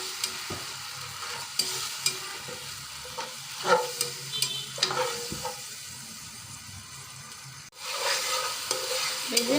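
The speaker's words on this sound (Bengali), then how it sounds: "দেওয়ার পর পরিমাণ মতো একটু পানি দিয়ে নেড়ে চেড়ে কষিয়ে নেব।" Spice paste with a little water is stirred and cooked down in a pan for a tilapia curry, giving a steady soft sizzle broken by repeated scraping strokes of a spoon against the pan.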